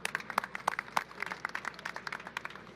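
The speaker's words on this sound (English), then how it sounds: "Please give a round of applause to Assemblymember Jennifer Rajkumar" Audience applause for an Assemblymember at a Pakistani flag raising in New York: scattered hand claps from a modest outdoor crowd, fairly faint and distant, uneven and sustained.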